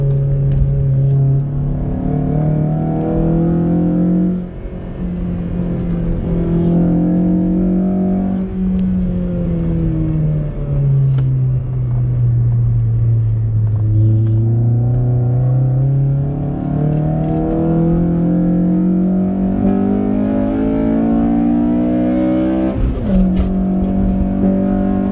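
A Honda Civic Si engine roaring loud and close from inside the car under hard acceleration, its pitch climbing, dipping at gear changes and climbing again through a sustained run with no talking.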